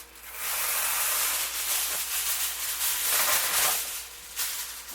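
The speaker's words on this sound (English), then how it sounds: "I have a cookie sheet here, which I'm going to put tinfoil on." Aluminium foil torn from a roll and spread over a metal cookie sheet in a home kitchen, a steady loud crinkling and rustling hiss lasting several seconds with a brief swell near the end, no voices.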